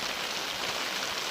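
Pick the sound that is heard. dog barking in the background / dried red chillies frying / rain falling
rain falling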